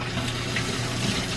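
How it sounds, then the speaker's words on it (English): Tap water runs steadily over a greasy hand in a kitchen sink, a continuous close splashing rush with no talking. "rinse the greasiness off of my hand from the potato chips"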